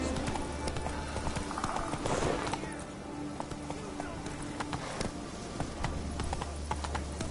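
Hooves of the horse Roach clip-clop steadily in a PS4 game, a clear rhythmic trot running throughout with game music and character dialogue underneath.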